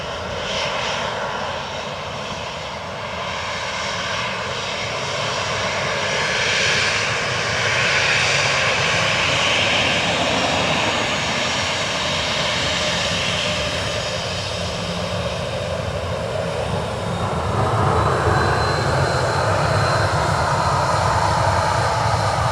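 An Aer Lingus jet airliner lands on runway 28 left at Dublin Airport, a loud, sustained engine roar that swells and shifts in tone as it passes, heard alone without talk.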